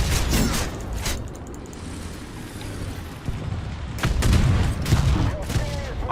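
Tank gunfire in the War Thunder game from an LVT(A)(4) light tank, with broadband shot bursts near the start and again toward the end over a steady engine rumble; no talk is heard.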